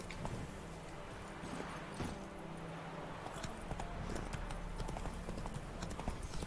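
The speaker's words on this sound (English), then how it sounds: "Horsey. Come here, Roach" Horse hooves clip-clop in The Witcher video game, a steady rhythmic trotting under a dense, continuous game soundscape, moderately loud throughout with no speech.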